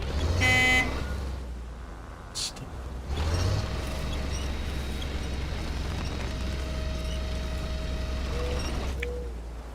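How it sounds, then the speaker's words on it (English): Car horn honking in the SnowRunner off-road truck game, Michigan map at Smithville Dam: steady horn tones held over a constant engine drone, with a brief burst at the start and a long sustained blare through most of the stretch. "It's not about all the honking"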